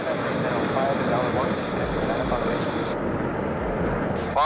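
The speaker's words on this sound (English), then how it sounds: "the pilot had to land the plane on one wheel due to strong crosswinds" Airplane landing on one wheel in strong crosswinds: a continuous, loud engine and wind roar holds steady throughout, with a voice talking over it.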